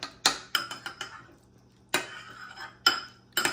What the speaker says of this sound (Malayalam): നെക്സ്റ്റ് ഇതെല്ലാം കൂടി മിക്സ് ചെയ്യുക.